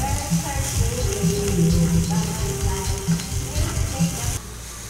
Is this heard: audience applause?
no